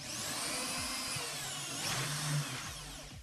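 A power drill whines steadily while boring holes in the body of a homemade vacuum cleaner, close and fairly quiet with a brief rise in pitch midway.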